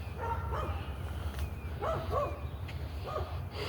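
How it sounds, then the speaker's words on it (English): Dogs bark outdoors on a morning walk: three short bursts of two or three barks each, heard at a moderate distance over a steady low outdoor rumble. "Looks like the dogs barking around here have caught other doggos' attention."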